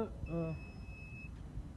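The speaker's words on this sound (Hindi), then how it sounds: "जब वो एडेप्टर कनेक्ट हो जाएगा तो एक बीप का साउंड भी आएगा" A car diagnostic scanner adapter gives one clear electronic beep, a sustained steady tone of about a second, just after a brief voiced sound at the start, fairly quiet overall.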